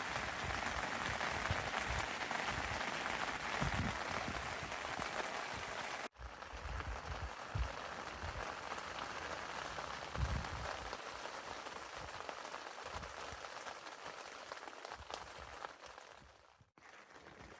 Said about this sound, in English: you can start to hear the sound of the rain. It's kicking in.